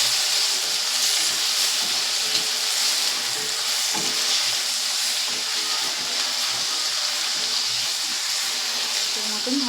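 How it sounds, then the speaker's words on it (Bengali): Onions, green chillies and nigella seeds fry in a pan with a loud, continuous close sizzle and occasional stirring scrapes, and a voice talks over the cooking. "5 থেকে 6খানা কাঁচা লঙ্কা, পেঁয়াজ আর এই কালো জিরে দিয়ে ভালো করে একটু কষিয়ে নিতে হবে"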